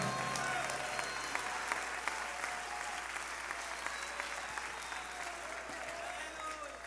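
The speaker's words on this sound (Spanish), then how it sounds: "Dele fuerte ese aplauso al Señor." Church congregation applauds loudly and steadily for several seconds, a dense wash of many hands clapping with voices mixed in, heard at a slight distance in a large room.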